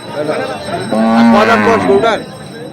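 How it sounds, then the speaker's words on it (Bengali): A dairy cow at a rural cattle market gives one loud, close, drawn-out moo lasting over a second, rising then falling, with no talk around it. "আমরা এখানে একটি গরুকে দেখছিলাম"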